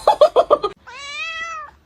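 A pet cat gives a single drawn-out, clear meow right after a quick burst of a person's speech, loud and close.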